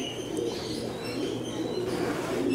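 Pigeons coo softly inside a loft, a continuous low burbling that overlaps throughout, close by and fairly steady.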